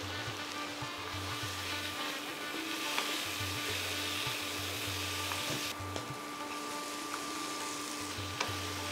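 Grated coconut and chickpeas are sautéed in a pan for a Bengali wedding-style aloo kumror chhokka, giving a continuous close sizzle over a low, periodically pulsing hum.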